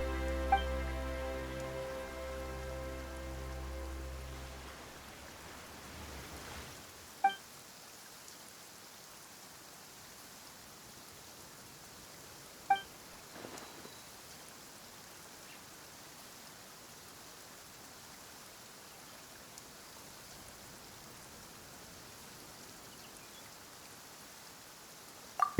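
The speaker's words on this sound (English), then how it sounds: "Why is it raining all of a sudden?" Steady rain hisses across a Genshin Impact-style game scene, starting after a few seconds of low music and then filling the background as a broad, even wash, with a few faint clicks scattered through.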